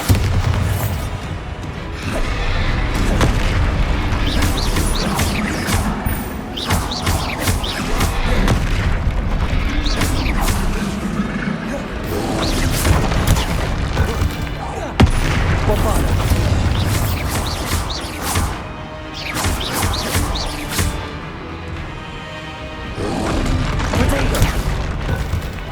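Bombarda blasting spells in Hogwarts Legacy boom again and again, heavy explosions landing in quick irregular succession over a continuous loud rumble of battle.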